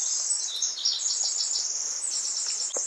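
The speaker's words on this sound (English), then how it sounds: "It's a really happy bird." Small bird singing outdoors during a hike, high thin chirps and trills running continuously near the microphone with a steady insect-like buzz beneath, no voices.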